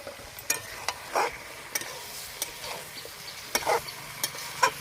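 Jackfruit, fried potatoes and spices stir-fried together in a pan, a soft sizzle punctuated by intermittent scraping and tapping of a spatula, moderately quiet and close.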